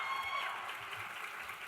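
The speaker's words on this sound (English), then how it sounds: "Now you guys are getting the hang of the cheering and clapping thing." Applause and cheering from an audience at the 2023 Miss Seattle Scholarship Competition, a steady, fairly faint patter of clapping heard from a distance throughout.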